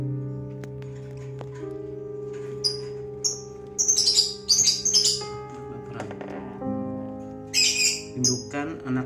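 Hungry baby lovebird chicks from blue and green violet-mutation parents chirp in short bursts of high squeaky begging calls, close by, over a faint steady hum.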